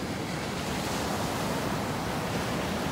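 Ocean waves break and wash ashore at Praia Brava beach in a steady, loud, close roar of surf, with no voices.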